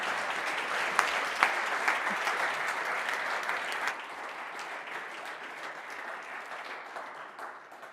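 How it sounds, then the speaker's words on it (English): An audience applauds a startup pitch team at an AI accelerator demo day, with sustained full clapping that thins and softens toward the end. "Team Palace, big applause, please."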